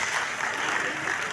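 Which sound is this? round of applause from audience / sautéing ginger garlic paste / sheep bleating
round of applause from audience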